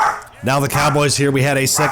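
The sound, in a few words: dog named Gizmo barking in the background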